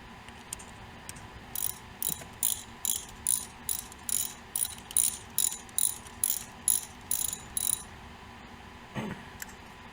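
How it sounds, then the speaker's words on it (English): A ratchet wrench is used to bolt a part back into a car during an auto repair. It gives a series of about a dozen quick, evenly spaced clicking bursts, close and fairly crisp, with brief pauses between the strokes and no speech. "now we are going to bolt it back in"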